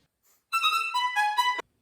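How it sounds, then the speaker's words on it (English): A melodic phrase from a Bach theme, its first bright appearance within a Ysaÿe work, played as a single clear line of sustained, harmonically rich notes for about a second, with no voices. "Bach's first appearance sounds like this."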